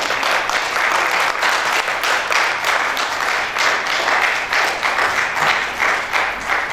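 Loud, sustained audience applause fills the hall at a Bahawalpur film award show as a well-known Pakistani film director is welcomed, dense clapping continuing steadily without pause and with no voices over it.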